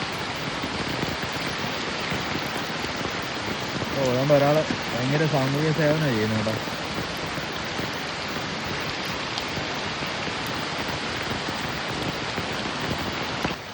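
Rain and runoff water from a temple gushing through a drain into a stream, a steady, dense hiss of falling and flowing water, with a person speaking briefly midway.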